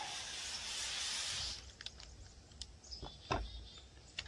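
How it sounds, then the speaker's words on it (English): A long hissing spray from a bottle runs for about a second and a half while applying window tint, followed by quieter handling clicks and small taps. "spray it as you release"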